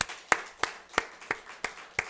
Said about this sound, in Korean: 오늘 그러한 주님께 영광의 박수 한번 올려드립시다